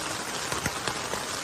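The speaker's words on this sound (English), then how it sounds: "It rains so hard and everything is soaked." Heavy rain pouring down outdoors while hiking, a dense steady hiss with a few sharper drops landing close by.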